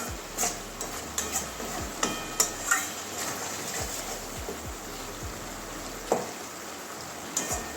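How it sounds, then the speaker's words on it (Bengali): Spice masala for a thin Bengali mutton curry cooks with tomato in a pan, giving a soft, continuous sizzle broken by scattered sharp taps and scrapes from a stirring spoon, with no voices. "ভালো করে মশলাটা কষিয়ে নেব"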